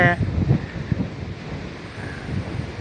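Wind buffets the microphone in a continuous rushing roar during Storm Noru, with a brief voice at the start.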